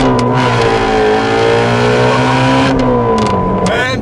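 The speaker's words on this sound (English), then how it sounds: "that freaking high revving V8 in this car" A loud, high-revving V8 engine of a 2017 Shelby GT350 roars and climbs in pitch as the car accelerates hard with some wheelspin, heard close up from inside with a steady, powerful drone.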